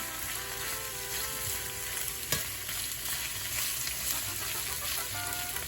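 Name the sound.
onion sautéing in a pan until translucent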